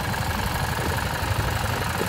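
A Harley-Davidson motorcycle engine idles close by, giving a steady, rumbling low drone with an even pulsing texture that does not change for the whole short stretch.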